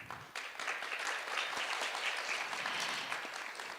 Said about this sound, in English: Please welcome her with a big round of applause